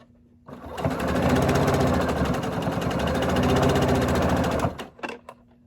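A sewing machine runs steadily for about four seconds while stitching a fleece hat, a close, continuous rapid whirring hum that starts and stops abruptly, followed by a couple of short mechanical clicks.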